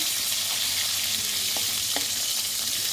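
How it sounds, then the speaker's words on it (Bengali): Rohu fish pieces frying in hot oil for a fish korma, a steady, dense sizzle with a few faint utensil taps, close and continuous without any voices. "মাছগুলো কিন্তু সুন্দর করে ভেজে নিতে হবে"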